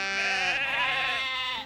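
A single sheep bleats close by in a clear, wavering cry lasting under two seconds, alone with no talk.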